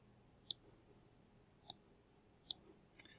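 Quiet mouse clicks confirming an action in software: four sharp, isolated clicks about a second apart, the last a quick double, over faint room hiss.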